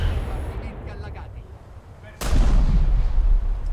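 Heavy cruiser naval guns from a warship video game fire high-explosive shells: a faint distant report, then a loud, sharp blast with a booming low rumble that carries on to the end.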